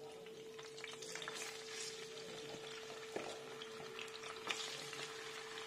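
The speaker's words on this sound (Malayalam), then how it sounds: "അപ്പം നമുക്ക് അടുത്ത പീസും കൂടെ അതിനെ ഫ്രൈ ചെയ്തെടുക്കാം കേട്ടോ." Chicken leg pieces frying in hot oil for crispy fried chicken, a steady close sizzle and bubbling with a few sharp pops and stirring clicks, no voices.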